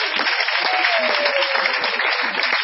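A church congregation applauding and cheering for Jesus, dense continuous clapping with a few raised voices mixed in, loud and sustained throughout.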